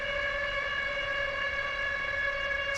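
A synthesizer holds a steady, sustained tone rich in stacked harmonics, closely resembling a tornado siren, played loud and alone without any talking.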